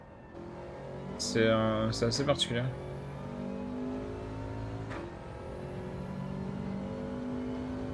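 A Group 4 race car in a racing video game hums along with a steady engine tone, broken early by a burst of sharp revving blips. Someone talks over it.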